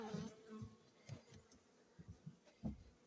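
Honeybees on beehive frames lifted from a hive make an uneven, close buzzing, with several louder wingbeat bursts over a low drone and no speech.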